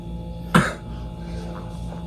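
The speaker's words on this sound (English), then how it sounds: "We don't care that you're coughing." A single sharp cough from a person after smoking a blunt, close and fairly loud, standing alone over a steady low background hum with no talking.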